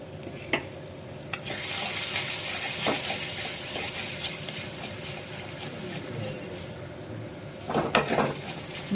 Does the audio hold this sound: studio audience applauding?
no